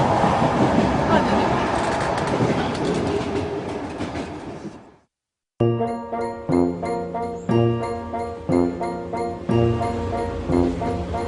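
The Trans-Siberian Express rolls along with a dense, loud rumble that cuts briefly to silence, then returns as a sharper, rhythmic clickety-clack of wheels over rail joints.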